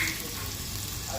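Sausages frying in a pan, a steady close sizzle filling the short moment with no breaks.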